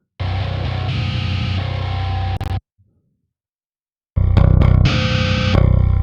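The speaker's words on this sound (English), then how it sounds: "This is Xavier's original distorted note from the demo, and I put that distortion on top of my distortion" A heavily distorted synth or guitar note with a second layer of distortion stacked on top plays loud and sustained, cuts out briefly, then returns as a harsher, gritty burst of repeated notes, with no voices.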